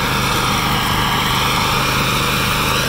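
A John Deere 316 riding lawn mower runs steadily at close range, its engine giving a loud, unbroken drone with no pauses and no talk.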